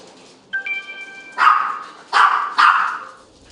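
Several dogs bark at a puppy kindergarten, opening with a short yip and whine and then three loud, close barks in separate bursts, with no voices.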